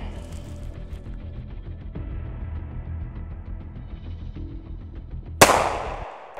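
A single sharp handgun shot cracks out near the end after a stretch of low background noise, with a decaying tail.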